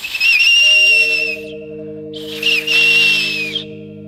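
A shrill clay whistle with a ball inside sounds in two long blasts with a fluttering, trilling quality, loud and close, separated by a brief pause.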